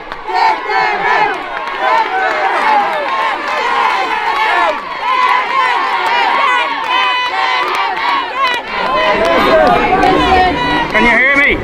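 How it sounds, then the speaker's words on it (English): Huge street protest crowd in East Wall chanting and shouting, dense overlapping voices at high volume, rising and falling in waves across the whole stretch with individual cries standing out. "a huge crowd has come out here today."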